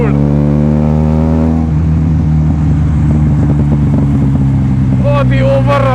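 A Benelli TNT 300 motorcycle's loud exhaust on overrun during a night ride, dropping through the revs with a rough drone and crackling pops, recorded up close onboard.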